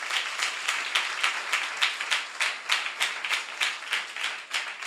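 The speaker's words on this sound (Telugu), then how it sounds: "నమ్మిన వారు చప్పట్లు కొట్టి స్తోత్రం చెప్పండి" A church congregation claps in praise in steady, rhythmic unison, a run of even hand claps continuing for several seconds at moderate distance with no talking over it.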